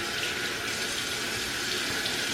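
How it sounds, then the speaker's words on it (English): A corned beef brisket is rinsed under a running kitchen tap, giving a steady, loud hiss of flowing water that splashes continuously throughout with no pauses or voices. "So I'm just going to take it and rinse it off a little bit more."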